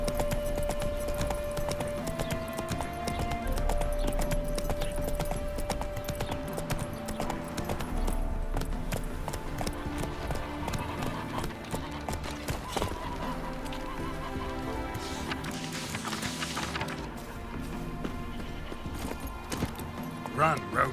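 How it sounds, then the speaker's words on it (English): Roach the horse gallops through Novigrad in The Witcher 3: Wild Hunt on PS5, a steady rhythmic clip-clop of hooves running under game music, with a voice speaking over it. "Run, Roach."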